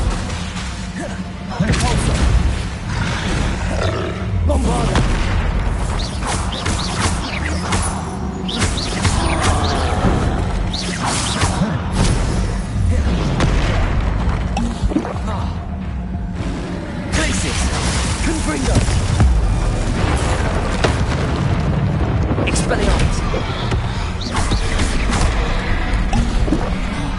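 Bombarda blasting spells from Hogwarts Legacy go off in repeated booming bursts, mixed with other combat spell effects and game noise, while a voice calls out spells throughout.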